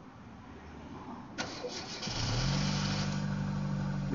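A car engine cranks and catches when started through jumper cables, a short starter whir followed by a sudden rise into a steady, moderately loud idle.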